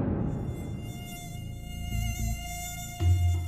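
A mosquito buzzing inside an aircraft cabin, a thin sustained whine with bright overtones that holds steady and close, while low thumps and muffled knocks come and go beneath it.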